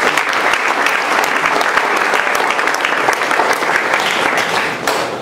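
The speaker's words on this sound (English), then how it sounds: "everybody give them a round of applause" Loud, steady audience applause at an iLaunch 2010 event, dense clapping from a crowd sustained throughout and easing slightly near the end.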